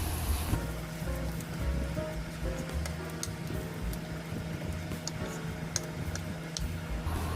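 Corned beef caldereta ingredients sauté in a pan, a steady broadband hiss and crackle with scattered small ticks and clinks, continuous at moderate level with no one speaking.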